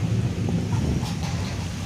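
Strong wind rushes and buffets the microphone during a rainstorm, loud and steady with low rumbling gusts and no talking.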